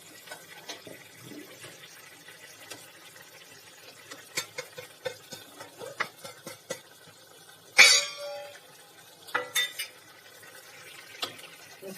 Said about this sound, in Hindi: मिक्स कर देंगे अच्छे से।